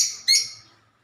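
Brief, bright chirps from African lovebirds, two quick high calls close together, loud and near, fading out within about a second with no talking.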